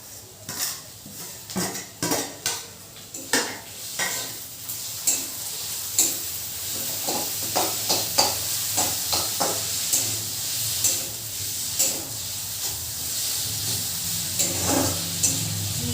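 Ground mustard paste going into a frying pan with ginger, garlic and cumin masala, steady sizzling under repeated close clinks and scrapes of a spoon stirring against the pan.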